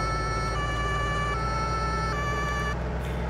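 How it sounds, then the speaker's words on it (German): A police vehicle siren in Farming Simulator 19 wails in a steady, loud, continuous tone over a low engine drone, with no talking. "Einfach dann Taste N, wieder unsere Sirene."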